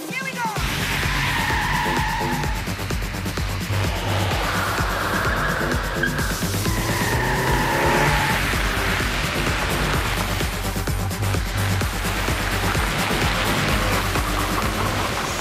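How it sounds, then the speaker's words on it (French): A car drifts and skids on a track, its tyres giving loud, sustained squeals that rise and fall over a roaring engine, continuous and close throughout. "En fait, la voiture faisait du drift. Donc elle glissait sur la piste."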